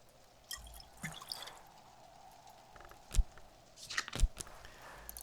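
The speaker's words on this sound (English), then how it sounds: "A little water splashes on the stones of the well to nourish the mosses there." Water splashes onto the stones of a well in a video game, heard as faint drips followed by two sharper, louder splashes near the end over a quiet background.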